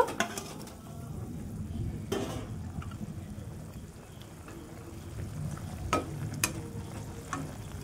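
Four pieces of fried tilapia simmer in a spicy curry, giving a steady low bubbling sizzle with occasional stirring clinks and scrapes of a utensil against the pot, close by and moderately quiet, with no voices.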